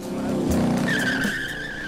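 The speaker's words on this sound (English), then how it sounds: "this is a 1908 Benz Grand Prix car that placed third in the first Grand Prix in Diepe" A 1908 Benz Grand Prix race car with a 12-liter four-cylinder engine drives by with a loud, close engine drone and a sharp high-pitched squeal or whine rising partway through.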